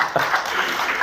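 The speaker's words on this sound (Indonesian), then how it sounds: "Tepuk tangan bagi Yesus." A brief burst of church congregation applause during a sermon, dense and fairly loud, with scattered claps blending together.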